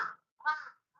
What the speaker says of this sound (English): Look at these fucking crows out there.